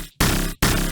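A heavy FM growl bass synth patch built in FL Studio plays as two dense, loud, sustained bursts, each gritty and wide-ranging, separated by short silent gaps.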